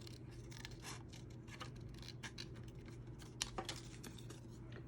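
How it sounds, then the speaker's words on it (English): Scissors snip through paper for a fall-themed snap frame craft, making a quiet, close string of small crisp cuts and rustles over a low steady hum. "I'm just going to cut that out"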